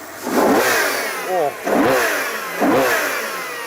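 A Ferrari Purosangue SUV's V12 engine revs hard three times in quick succession, each loud, close burst climbing sharply and then falling away.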